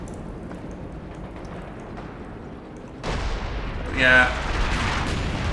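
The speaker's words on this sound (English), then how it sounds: "Here come the grenades landing in here." Grenades land and explode in a Company of Heroes 2 battle, with a sudden burst of blast noise midway and a louder, rumbling explosion shortly after, over a low game ambience; a brief voice is heard.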